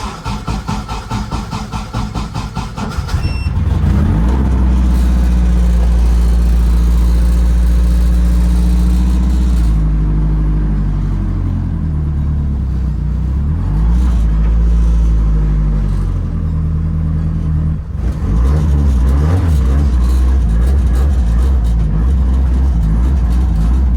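A loud Nissan 240SX (S14) engine rumbles nearby, idling and revving unevenly as it creeps along in reverse, the deep throb continuing steadily throughout with no voices.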